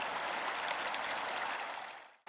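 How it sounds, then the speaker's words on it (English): Water flowing in a small stream, a steady soft rushing and trickling wash with no voices, fading out at the end. "the water finds its way into streams like this and eventually out into the ocean"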